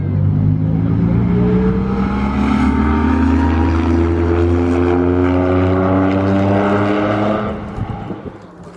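Modified Porsche RWB cars accelerate hard onto a long straight at the Spa circuit, a loud sustained engine roar with climbing harmonic tones that holds steady for several seconds before easing slightly at the end.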